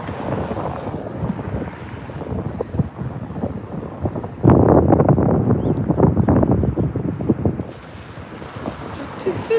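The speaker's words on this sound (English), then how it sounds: "you know, the wind is cold." Cold winter wind gusts outdoors in New York City, a steady rushing buffet across the microphone that swells louder midway, with a voice talking beneath it.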